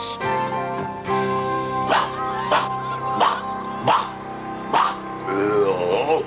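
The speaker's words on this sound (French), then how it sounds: "l'horrible chien s'entraînait à chasser les petits bunnies" A cartoon dog barks in a 1986 Jim Henson animated program, several separate barks spaced about a second apart over a sustained musical score, clear and close.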